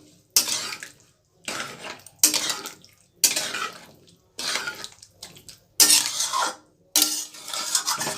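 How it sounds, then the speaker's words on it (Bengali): A spoon scrapes and stirs a potato and pea filling with garam masala in a pan, in repeated short bursts of clattering and scraping, close by and separated by brief pauses. "একটু গরম মশলা দিয়ে একটু নাড়াচাড়া করে নামিয়ে নেব।"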